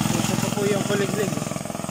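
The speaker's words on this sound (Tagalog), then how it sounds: "Ayun po, kuliglig po yun." A kuliglig, a small Philippine motorized cart, putters steadily at low pitch with a rhythmic chug, fairly close, while voices are faintly present.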